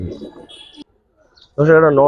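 Giribaz and coloured pigeons give a deep, resonant cooing close by, following a stretch of talking and a short pause.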